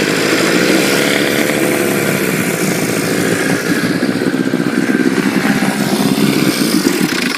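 A small boat outboard engine runs loud and steady at close range, a buzzing, throbbing drone that holds constant throughout.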